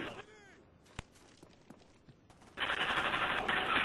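Rapid automatic gunfire from dual Scorpion submachine guns in Call of Duty Black Ops, with scattered shots early on, then a loud sustained burst of fire.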